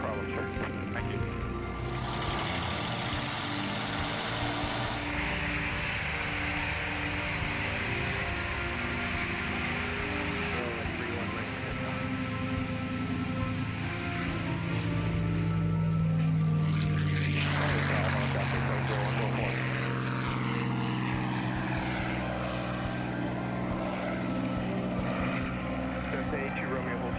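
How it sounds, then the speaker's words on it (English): Propeller-driven airplane taking off at an air museum field, a steady loud engine drone rising and changing pitch over about half a minute, with brief radio-style talk mixed in. "It's a beautiful airplane."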